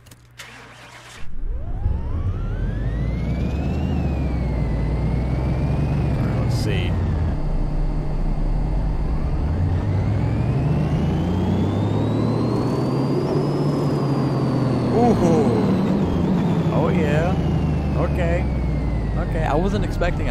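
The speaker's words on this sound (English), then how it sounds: "So let's go ahead and run this dyno test." An 1,100-horsepower drift kart engine run on a dyno in Car Mechanic Simulator 2018, starting up after a brief pause and then droning loudly for a long run while the revs rise and fall in sweeping waves.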